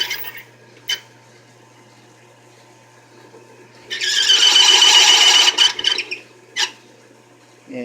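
A carbide-tipped bit bores into stainless steel, giving one loud, sustained high-pitched squeal lasting about two seconds, with short squeaky bursts before and after it and quiet workshop hum in between.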